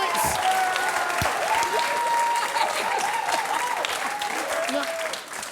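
A studio audience claps and cheers loudly in a dense, sustained wave of applause that continues throughout and then starts to fade at the very end, with a few voices calling out over it.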